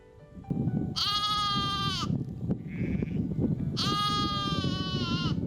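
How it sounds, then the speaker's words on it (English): A sheep bleats twice, loud and wavering, against steady wind or engine rumble, with a faint call in between, near sand dunes and a lake in southern Western Australia. "Looks like we've got a lost sheep."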